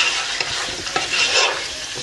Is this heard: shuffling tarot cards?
no